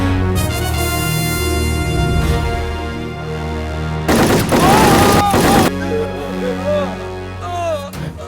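Bursts of rapid gunfire from a motorbike drive-by shooting in the Indian action film Parama Veera Chakra, a loud clustered volley of shots mid-scene set against music and other effects.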